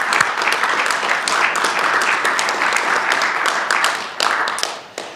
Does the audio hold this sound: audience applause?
yes